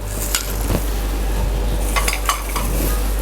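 Cornflour, plain flour, gram flour and spices being mixed in a bowl, with soft continuous stirring and light scraping clicks against the bowl, close and steady, under a low background hum and with no talk.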